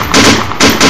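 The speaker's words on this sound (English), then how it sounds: "I'm just gonna shoot you." Two loud gunshot blasts from a handgun in a Deadpool fan film, roughly half a second apart, each a sharp broadband crack with a sustained ringing tail, close and with no speech over them.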